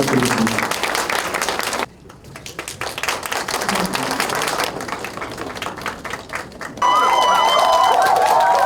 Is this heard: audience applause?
yes